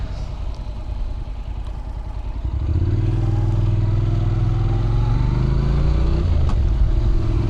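A Honda NC700X motorcycle on the road, its engine and exhaust droning steadily and close, with the note rising and holding as the bike picks up speed after the first couple of seconds.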